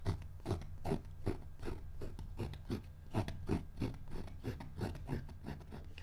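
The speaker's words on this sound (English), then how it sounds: "make sure that you hear that scraping sound. You're actually scraping, listen." Palette knife scraping oil paint across a canvas, a steady run of short rasping strokes repeating about twice a second, close and moderately quiet with no talking.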